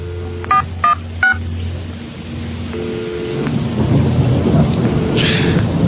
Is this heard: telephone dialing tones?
yes